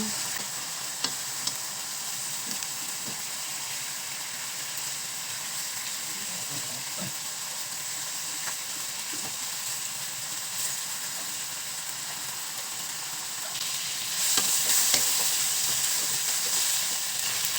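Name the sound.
chicken frying in a pan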